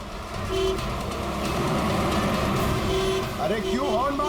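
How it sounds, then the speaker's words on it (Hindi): Vehicle horn honks in short bursts amid loud, continuous traffic or engine rumble, with a voice talking over the noise. "अरे क्यों हॉर्न मार रहा है?"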